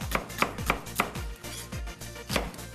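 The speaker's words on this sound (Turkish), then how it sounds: "soğanı doğruyoruz" A knife chops an onion into half-moon slices for a fresh green bean casserole cooked in a clay pot, giving about eight crisp, close knocks on a board in an uneven rhythm with no talk.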